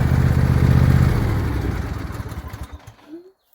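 A John Deere ride-on mower's engine idles with a close, even rumble, then winds down and cuts out into near silence.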